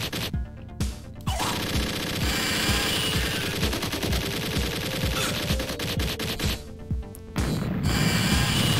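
Rapid machine-gun fire from the Alien 3: The Gun arcade shooter, dense bursts of automatic shots rattling almost continuously with short pauses, loud and close amid game effects.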